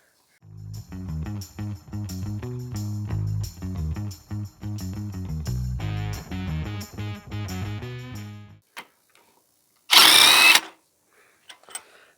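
An impact wrench or power driver works on bolts of a 4.2 liter 258 Jeep engine, firing in a quick series of short, loud buzzing bursts, then falling silent before one brief, harsh, noisy burst.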